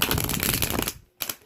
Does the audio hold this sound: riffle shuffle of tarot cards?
yes